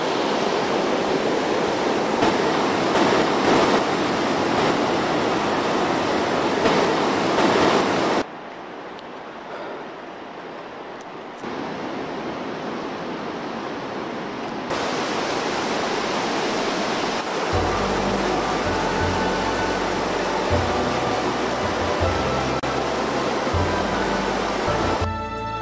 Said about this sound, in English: I can't believe the stream can come out of a hole like that